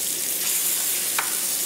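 Butter sizzles around dry-aged beef rib steaks in a hot pan, a close, steady frying hiss throughout with one brief sharp crackle near the end and no talk.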